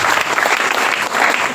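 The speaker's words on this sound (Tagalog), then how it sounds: "Malakas na palakpak muli sa Panginoon Diyos." Loud, dense applause from a crowd at the Mindanao Youth Lifters Youth Camp, a brief burst of many hands clapping close by.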